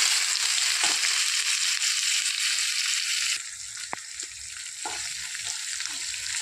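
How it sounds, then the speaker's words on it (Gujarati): Corn kernels tipped into hot oil with asafoetida, a loud steady sizzle that drops a little partway through, with light clicks of stirring and scraping in the pan. "હવે આપણે એમાં મકાઈના દાણા એડ કરી દઈશું"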